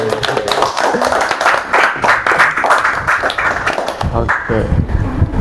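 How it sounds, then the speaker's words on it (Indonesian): Podcast hosts and guests clap together in a small studio room, a dense run of close hand claps lasting several seconds, with voices mixing in near the end as the clapping tapers. "Oke, tepuk tangan dulu dong tuh ya."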